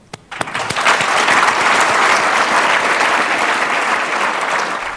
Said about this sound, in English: Quick intermission here after the applause